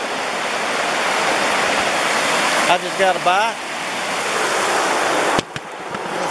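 Waterfall in Pisgah National Forest, a constant rushing roar filling the scene while a person speaks briefly over it.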